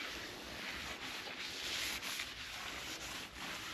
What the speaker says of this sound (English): So just rub all that excess lube off.